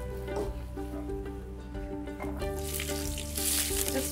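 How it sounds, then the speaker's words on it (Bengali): Food sizzles as it fries in very hot oil in a home kitchen, a steady crackling hiss under a tonal musical background, growing brighter and louder near the end. "তেলটা একদম গরম হয়ে গেছে, আমি এটার মধ্যে আস্তে করে ছেড়ে দিই না।"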